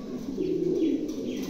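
European pigeons coo in a low, rolling burble, close by and continuous with no talk over it.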